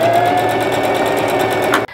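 A sewing machine stitching a dress, with a steady, fast, rhythmic whirring hum running continuously close by before stopping abruptly at the end.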